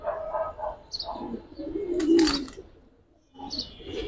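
Giribaz flying pigeons coo in low, throaty, repeated calls close by, with a few higher chirps and a brief flutter of wings, then a quiet pause before the cooing returns.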